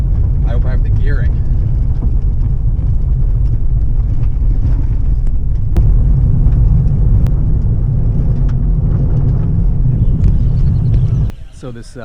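A car driving hard on a dusty gravel race course, with a steady loud rumble of engine and tyres on loose stones that drops away abruptly near the end.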